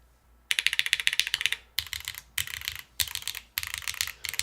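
Mechanical keyboard being typed on, the arrow keys, alphas and spacebar tested in bursts of rapid, crisp clacking with brief pauses between runs, close and loud, no talking.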